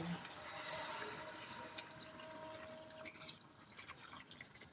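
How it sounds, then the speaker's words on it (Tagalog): Water pours steadily into a cooking pot, a continuous splashing fill that rises in pitch slightly, followed by a few drips and small clatters near the end. "ngayon lalagyan ko siya ng tubig"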